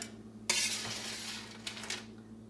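Potatoes being mixed into a dish for a simple weeknight dinner, with a scraping clatter of a utensil against the pan, a soft sizzle underneath and a couple of brief clinks, close and moderately loud.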